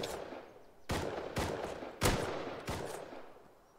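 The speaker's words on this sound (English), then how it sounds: "That's the scientist shooting at you." Gunfire from a scientist NPC in the survival game Rust: five sharp shots spaced about half a second apart, fairly close and distinct, with no talk over them.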